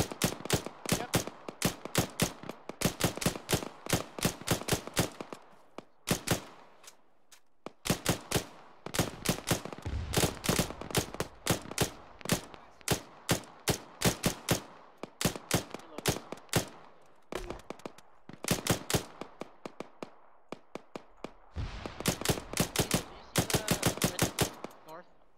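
Rapid bursts of automatic gunfire in ARMA 3 crack out in repeated volleys, separated by short pauses, loud and close, with brief radio-style voices in between.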